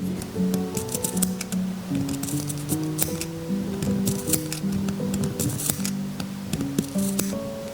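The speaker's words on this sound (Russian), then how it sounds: "Это лучше всего сделать маленькими ножницами." Small scissors snip out embroidered fabric from a t-shirt, giving rapid, irregular crisp clicks and cuts in close succession, near and fairly quiet, with no talk.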